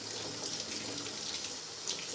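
Tap water pours in a steady, continuous rush into a container, close and even for about two seconds with a slight splash near the end and no voices.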